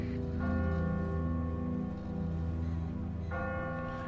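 A church bell in The Walking Dead video game tolls steadily and loudly, its sustained ringing tones layered and continuous throughout with no voices.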